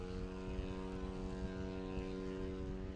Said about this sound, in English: Derek Holman in the Maule with the nose wheel on it.